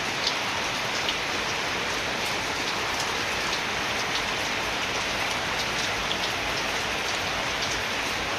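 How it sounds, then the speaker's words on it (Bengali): Steady, dense rainfall patters on surfaces without pause, a continuous hiss with scattered drops standing out, and no voices. "তো সারাদিনই প্রায় বৃষ্টি।"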